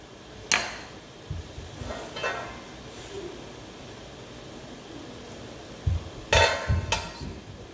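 A metal spoon clinks and scrapes against a hot canning pot while pink eye purple hull peas are being canned at home, giving a few sharp isolated knocks near the start and a quick cluster of clinks toward the end amid quiet kitchen background.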